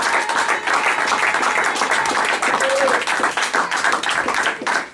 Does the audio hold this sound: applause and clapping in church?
yes